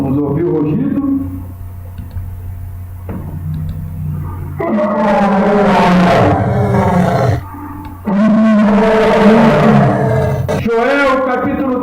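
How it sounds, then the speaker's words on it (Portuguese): A lion roaring, deep drawn-out bellows repeated several times loud and close, with a low rumbling tone and brief gaps between roars. "Vamos ouvir o rugido?"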